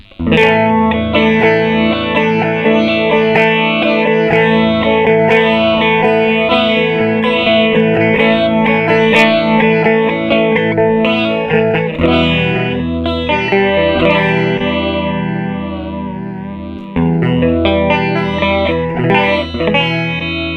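Heavily distorted electric guitar chords through an MXR Phase 100 phaser pedal, a sweeping, swirling effect, loud and continuous, playing alone without any talk.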